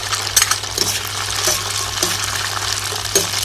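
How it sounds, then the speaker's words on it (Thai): Tofu and sweet preserved radish stir-fried in a pan with shrimp fat, giving a steady low sizzle with scraping and clinking from the spatula every second or so, close and moderately loud, no talking. "เมื่อผัดเต้าหู้สุกแล้วก็ใส่หัวไชโป๊หวานลงไปผัดด้วย"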